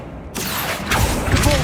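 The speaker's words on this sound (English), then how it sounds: "Making this spin ought to raise that platform." Spinning mechanism raising a platform in Hogwarts Legacy, a sudden loud mechanical rumble with creaking and grinding that builds over a second and a half, no talk.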